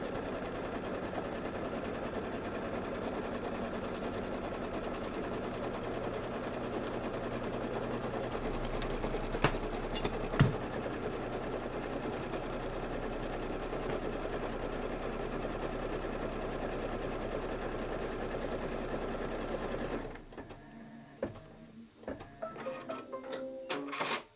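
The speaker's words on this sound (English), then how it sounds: "I'm going to take my hoop off the machine once this sews." An embroidery sewing machine stitches a table topper held in the hoop, running as a steady, loud mechanical whir for about twenty seconds before stopping, leaving brief faint handling clicks and taps.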